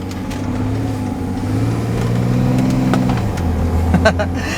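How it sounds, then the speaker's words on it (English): A tuned BMW X5 E70 diesel with the emissions equipment deleted idles and revs nearby, its low rumble rising and falling steadily, with no talking over it. "After you take care of the emissions issues, this thing sounds like an awesome truck."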